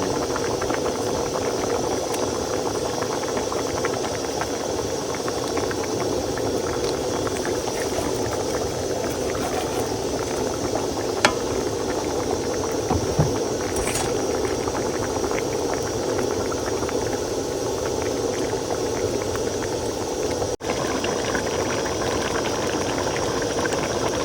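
Curry broth for a fish dish bubbling in a pot, a steady, dense simmering hiss and burble that holds level throughout with a few faint clinks, no voices.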